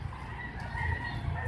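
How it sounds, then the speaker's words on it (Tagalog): Fighting cocks kept at a small park in Navotas crow and cluck faintly in the distance, over steady outdoor background noise. "may mga manok pa."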